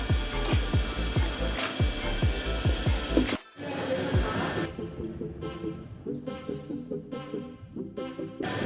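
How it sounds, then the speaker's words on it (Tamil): A kitchen mixer grinder blends peanut chutney with chilli and salt, a loud whirring motor with repeated jolting surges, cutting off abruptly before restarting into a steady pulsing grind. "இந்தளவுக்கு நைஸாக அரைச்சிக்கோங்க"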